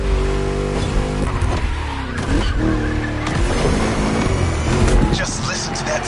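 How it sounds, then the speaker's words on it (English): A V8 car engine racing in The Crew Motorfest, loud and continuous with rising and falling revs, gear changes and some tire noise, with a voice talking over it. "Just listen to that V8 like a chunky, down-tuned guitar riff"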